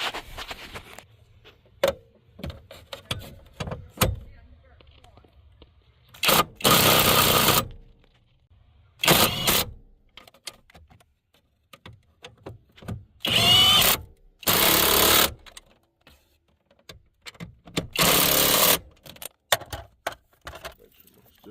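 Power tool bursts tightening steering column bolts with a 15mm on a Chevy, several loud whirring runs of about a second each separated by clicks and small metallic handling noises.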